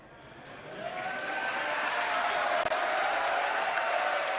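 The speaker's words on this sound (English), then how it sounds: "I have a feeling the crowd's about to go wild here." A large crowd roars and cheers at a SpaceX Super Heavy booster landing and tower catch, a broad sustained wash of voices and applause that swells and holds loud throughout.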